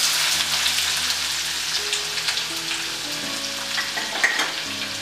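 Green cardamom, cloves, cumin seeds, cinnamon stick, bay leaf and onion fry in cooking oil in a skillet for chicken tikka masala, a steady close sizzle and crackle with light stirring throughout.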